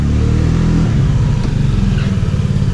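Honda Ruckus scooter engine idling close by with a steady low putter and harmonic hum, shifting to a slightly rougher rhythm partway through, with no talk.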